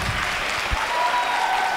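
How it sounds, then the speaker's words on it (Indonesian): Audience applause at a Ramadan gathering in a mosque, a brief steady patter of clapping with a couple of louder claps, filling the short moment alone. "Kasih tepuk tangan."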